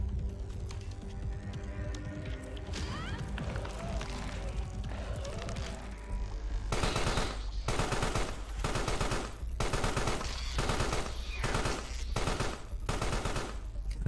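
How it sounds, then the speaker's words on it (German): Gunfire in the video game Carrion as enemies shoot each other, starting under game noise and then breaking into loud repeated machine-gun bursts separated by short gaps. "Ihr knallt euch gegenseitig ab."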